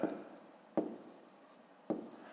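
Pen scratching answers into a school notebook during a fifth-grade maths exercise, three short quiet bursts of writing strokes, close and soft, with faint room noise between them.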